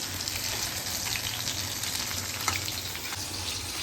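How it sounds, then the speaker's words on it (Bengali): Fish sizzling as it fries in a pan, cooked by a husband at home; a steady, dense crackle of hot oil runs throughout with a faint low hum beneath and no talking. "আমার হাজব্যান্ড সে কিনা মাছ ভাজছে"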